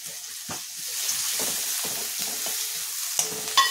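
Onion with curry leaves and ginger-garlic paste frying and being stirred in a pan for a drumstick vegetable dish, a steady close sizzle broken by several scraping stirs.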